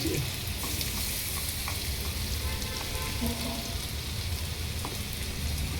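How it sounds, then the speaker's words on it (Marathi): Ginger and garlic sizzle in hot oil for soybean chilli, a dense, loud, steady crackle and hiss that runs close and unbroken throughout, with faint stirring scrapes and no voice. "आणि आता त्यामध्ये तेल थोडंसं तापला का त्यामध्ये अद्रक लसूण टाकायचं"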